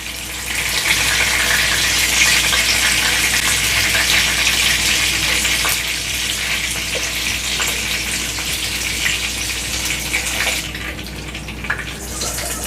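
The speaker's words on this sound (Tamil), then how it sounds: "இதே போல் நம்ம மிச்சம் இருக்கிற மீனையும் வறுத்து எடுத்துடலாம்" Mackerel fish coated in masala frying in hot oil in a pan, giving a loud, steady broadband sizzle that runs throughout and softens slightly toward the end.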